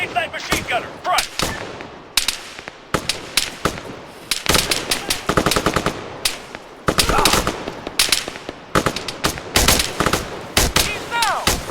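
Rapid machine gun fire in the video game Arma 3, with loud, close, continuous bursts of sharp shots, brief pauses and overlapping fire throughout.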